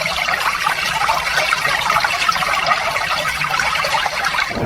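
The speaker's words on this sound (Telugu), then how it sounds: "ఇక్కడ మీరు చూస్తున్న ఈ స్టీల్ డిస్పెన్సర్ల ద్వారా జంజం నీరు అందిస్తున్నారు" Zamzam water flows steadily from steel dispensers at Masjid al-Haram, an even trickling, splashing rush that stays at one level throughout, with no voices over it.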